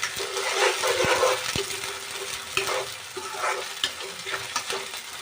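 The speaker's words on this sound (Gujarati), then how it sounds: "તો આવી રીતે આપણે એને તળવા દઈશું।" Ginger garlic paste sizzles and fries in a pan over a medium flame while a spoon stirs it, sharp scraping knocks landing at irregular intervals over a steady, close frying hiss.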